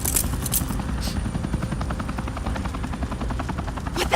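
A helicopter in Batman: The Telltale Series hovers close and loud, its rotor beating in a continuous rapid thump throughout.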